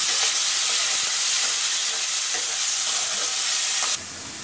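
Fish jhal sizzles loudly in a hot pan as spices go in, a steady dense frying hiss with stirring scrapes that drops abruptly quieter near the end.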